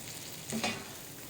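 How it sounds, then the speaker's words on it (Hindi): Butter chicken masala frying on a medium flame gives a soft, continuous sizzle with a brief scrape of stirring in the middle, faint and close, with no voices. "इसको 1 से 2 मिनट के लिए मीडियम फ्लेम पर ही इसको मज़ीद हम भून लेंगे"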